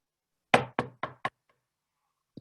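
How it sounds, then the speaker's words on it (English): Four loud, sharp knocks in quick succession on a door, close and alone during a theatrical Macbeth scene, followed by silence and one faint final tap. "Where hence is that knocking?"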